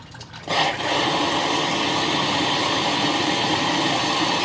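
Water flushing out of a Toyota radiator during a cooling system flush, a loud continuous rushing gush that starts abruptly and holds steady throughout, close to the microphone.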